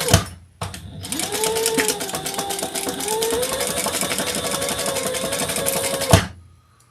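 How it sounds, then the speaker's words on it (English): A sewing machine runs steadily for about five and a half seconds, stitching a seam in a garment pattern, loud and close, with a whirring hum that rises slightly in pitch midway and stops abruptly. "let's sew this together at the seam allowance in the pattern"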